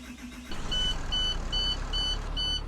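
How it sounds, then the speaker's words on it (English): A large Cummins diesel bus engine cranks and catches, settling into a loud, steady idle, while a repeating electronic beep chimes alongside. "So same startup as you've heard from my Cummins buses before"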